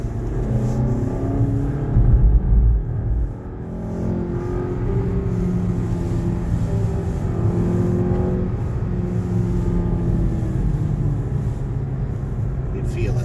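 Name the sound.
Mazda CX-5 engine accelerating in manual second gear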